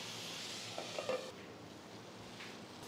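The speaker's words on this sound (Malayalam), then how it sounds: "നല്ലതായിട്ടൊന്ന് ഇളക്കി കൊടുക്കാം" Small onions stirred in a pan on low flame, a soft continuous sizzle with a few light spoon scrapes near the middle, quiet and close without voices.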